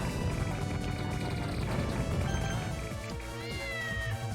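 A cat meows in the shooter game Castle Shikigami 2, set against busy game music and effects. The short meow calls stay steady and close throughout the brief stretch.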